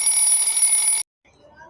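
An alarm clock rings in the morning with a bright, shrill electronic tone, loud and continuous for about a second before cutting off abruptly into near silence.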